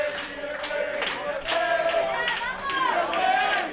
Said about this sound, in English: Got the crowd now really cheering it on.